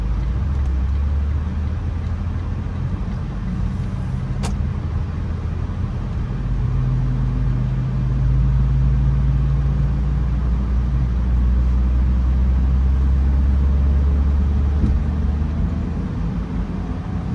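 A car drives through quiet downtown Shreveport, Louisiana, and makes a left turn, its engine and road rumble loud and continuous, with the low drone shifting in pitch as it turns.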